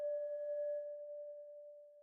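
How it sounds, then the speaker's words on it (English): A single sustained synth tone from the PS Khagan synthesizer holds a steady, pure pitch and fades slowly into a long, smooth reverb tail, alone and without other sounds. "lasting reverberated sound."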